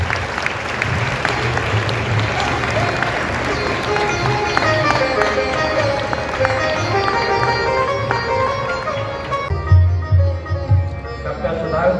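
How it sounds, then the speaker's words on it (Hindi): Sustained audience applause fills a hall at a birthday tribute gathering for Sadhvi Ritambhara, steady and dense throughout, with a louder burst of clapping near the end. "हमारी तालियां बंद नहीं होनी चाहिए, ये बजती ही रहनी चाहिए।"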